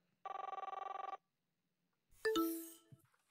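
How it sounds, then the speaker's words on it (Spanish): In the VR arcade game Silicon Rising, a telephone gives one short burst of rapid bell ringing, then after a pause a brighter electronic chime and sweeping tones follow, all clear against silence. "Una especie de teléfono suena."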